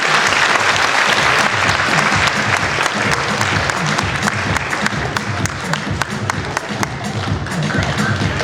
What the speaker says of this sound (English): let's get a nice round of applause from the bride's sister for her beautiful emotional words.